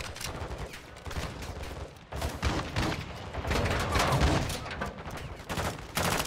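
Sustained gunfire from a firefight in the Modern Warfare 2 video game campaign: dense, rapid overlapping shots and bursts, loud and close, run almost without pause for about six seconds with a brief lull near the two-second mark and no talking.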